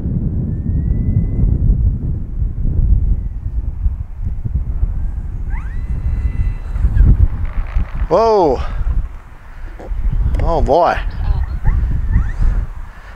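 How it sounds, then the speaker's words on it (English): Strong gusty wind buffets the microphone at an RC airfield, a low roaring rush that rises and falls, while a man exclaims briefly and an electric model plane's motor whines past in rising and falling sweeps. "It's just really too windy"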